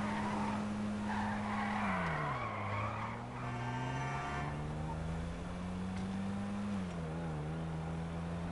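Car tires squeal and skid in a long, continuous slide while drifting in the video game GTA 5, with a steady engine drone underneath, loud and close.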